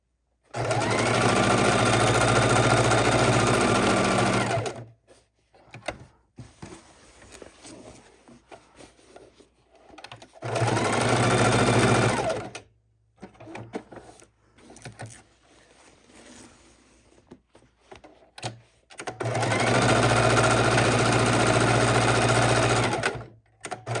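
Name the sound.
sewing machine stitching an art roll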